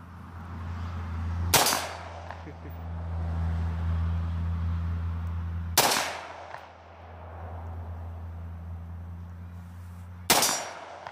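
Three loud, sharp gunshots ring out a few seconds apart, each with a quick metallic decay, over a steady low hum.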